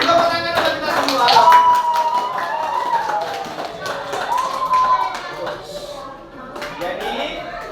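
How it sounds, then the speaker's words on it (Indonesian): A classroom group of teachers or students applauds together, a dense run of hand claps lasting several seconds, mixed with voices talking over it. "Beri tepuk tangan untuk kita semua."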